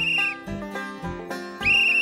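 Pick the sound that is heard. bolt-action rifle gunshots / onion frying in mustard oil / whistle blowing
whistle blowing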